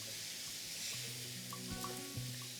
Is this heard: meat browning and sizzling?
yes